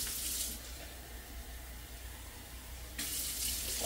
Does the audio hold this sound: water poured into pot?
yes